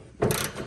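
A ratchet works on a 15 mm gas tank strap bolt of an 85 Cutlass Salon, a short close burst of clicking and grinding.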